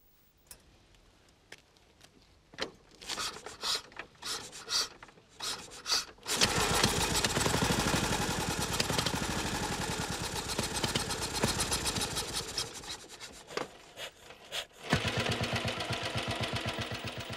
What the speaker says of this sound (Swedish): Så låter det nämligen om gamla motorcyklar som kanske i många år stått som vrak, övergivna i någon lada och nu renoverats upp till nyskick.